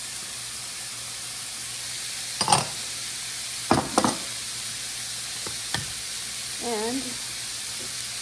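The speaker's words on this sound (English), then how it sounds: "Now, start to add onion, jalapeno pepper chopped," Chopped onion and jalapeno pepper sizzle in a frying pan for cheesy taco-stuffed shells, a steady hiss broken by a few sharp stirring clatters, with a brief voice near the end.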